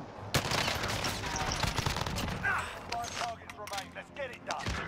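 Gunfire in the shooter game Warzone, bursts of rapid shots cracking loudly near the start and continuing in choppy volleys while a player shouts over it.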